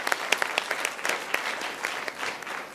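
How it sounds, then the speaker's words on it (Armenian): An audience claps after a dance performance, a dense, steady round of applause with sharp individual claps standing out, sustained throughout at moderate loudness. "ծափ։"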